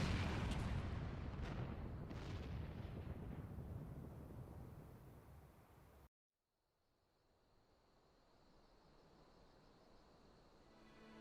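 Distant cannon fire in Final Fantasy XIV, a series of deep rumbling booms rolling over a loud battle din that suddenly drops to a quiet, low ambient hum.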